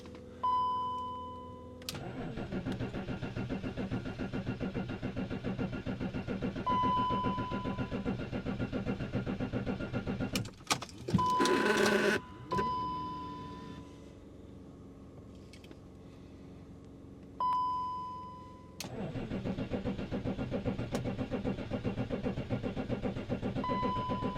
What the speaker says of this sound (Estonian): Lähme vaatame, kas X5 läheb külmast peast käimana